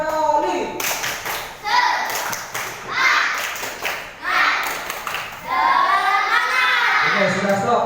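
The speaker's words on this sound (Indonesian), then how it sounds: "Tepuk semangat 3 kali." A group taking a break in a school teachers' sharing forum does a spirit clap: several sharp rhythmic bursts of hand clapping with thumps, mixed with children's and adults' voices talking and laughing, ending in louder cheerful chatter.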